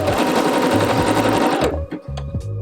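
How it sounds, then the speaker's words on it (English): Sewing machine stitching the side seams of fabric, a rapid loud mechanical whirring chatter that runs for over a second and a half, then stops and gives way to a few short clicks and bursts. "now I'm sewing the side seams together"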